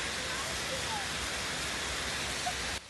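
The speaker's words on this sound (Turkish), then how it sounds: "İstanbul'da yağmur altında ilerleyen otomobilin silecekleri bozuktu." Rain falls on a moving car in Istanbul whose windshield wipers are broken, a dense, steady hiss that cuts off abruptly at the end.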